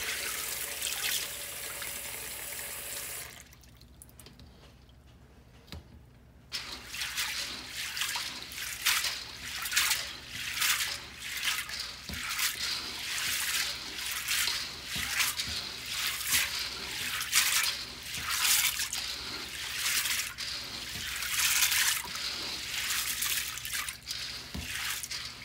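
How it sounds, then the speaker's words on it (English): Tap water runs into a bowl with rhythmic sloshing and swishing as dried beans are stirred and rinsed, steady and close, after a brief quiet pause. "See how the water's getting so cloudy looking?"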